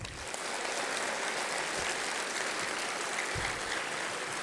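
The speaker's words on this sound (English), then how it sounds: "I think they need a bigger round of applause." Applause from a school assembly audience after a song, a steady dense wash of clapping that fills the whole stretch at moderate distance, with no talk over it.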